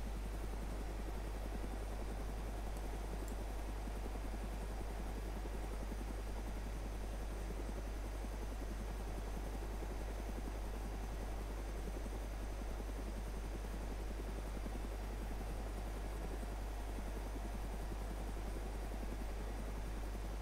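Helicopter in the video game DayZ, a steady, loud rotor and engine drone that fills the whole stretch without a break, heard from inside the aircraft.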